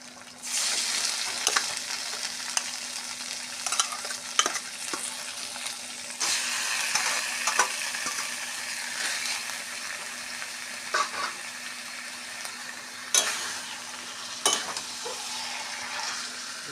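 Taro leaves sizzle in a pan after the spices have been cooked down, a steady close frying hiss punctuated by repeated clinks and scrapes of a spatula stirring, with a faint steady hum underneath.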